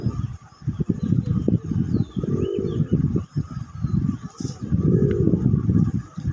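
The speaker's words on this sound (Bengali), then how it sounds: "কবুতরের ডাক দেখতে থাকুন" Red-coloured Raj Golla pigeons, a pair, cooing in repeated low throaty bursts close by, with soft chirps in the background and no talking.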